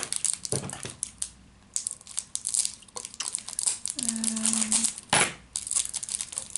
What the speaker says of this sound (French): j'arrive à enlever le plastique